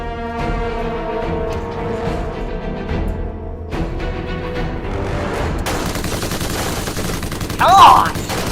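Toy foam-dart blasters firing during a backyard-style Nerf war, a dense continuous clatter of rapid shots with mechanical whirring, steady and loud throughout with a sharper burst near the end, under background voices.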